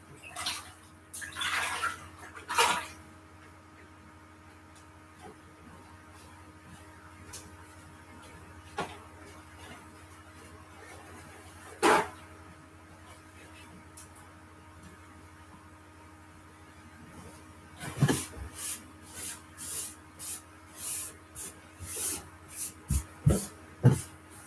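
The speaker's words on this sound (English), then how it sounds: "I'm gonna pause for a moment to just wash off my hands and clean up my work area." Hands being washed under a running tap while a worm-bin work area is cleaned up, with water splashing and clattering in bursts, loudest near the start and again toward the end, no talking.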